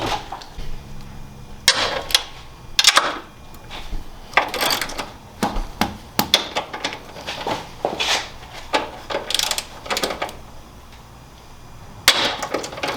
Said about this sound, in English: You gotta take 3 nuts off of here for your strut towers.